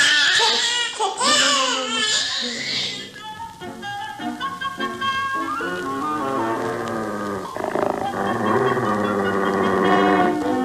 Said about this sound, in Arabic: العيل الصغير ده فوق بيعيط